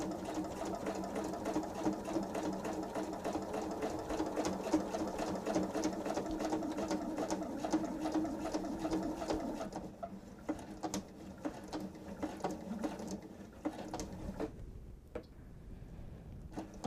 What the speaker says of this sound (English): at the end of the credit card attachment, I am going to do a back tack